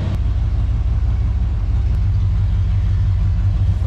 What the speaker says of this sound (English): Fire right up, idle beautifully once you get fueled up to her.